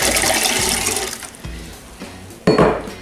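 Spring water pours steadily into a jug for mango mead, a bright rushing splash that fades, followed by a few light clunks and a sudden louder splash near the end.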